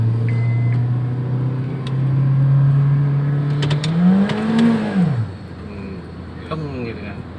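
A tuned 2010 Honda Freed with automatic transmission pulls away, engine note rising steadily and then dropping as it shifts, heard from inside the cabin with a brief lull afterward.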